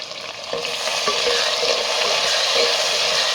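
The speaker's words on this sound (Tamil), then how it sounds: "கட் பண்ணி வச்சுருக்கிற தக்காளி இதை சேர்த்து வதக்கிக்கலாம்" Chopped tomatoes hit a hot pan and sizzle loudly while being stirred and sautéed, a dense continuous frying hiss close up, with no talking.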